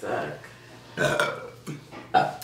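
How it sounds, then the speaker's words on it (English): A woman lets out a series of loud, drawn-out burps during an eating session, with about four separate voiced belches spread across a couple of seconds and no talking between them. "My burps suck."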